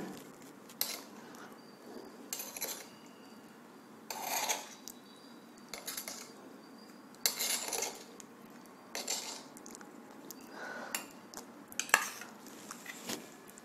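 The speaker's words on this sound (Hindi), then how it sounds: "इसको चटनी को निकाल लेता हूँ कटोरी में" Chutney being spooned out into a bowl while making aloo and besan pakodas, with soft scraping and clinking of a spoon against the dish in repeated brief strokes, fairly quiet and close, with no talk.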